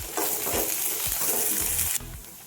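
Onions, green chilies and curry leaves sauté in a pan, giving a loud continuous sizzle with rhythmic spoon strokes scraping through, which ends in a sudden drop partway through. No one speaks.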